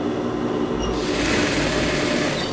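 Sewing machine stitching the neckline of a blouse, a steady close mechanical whir running continuously with no pauses and no talk.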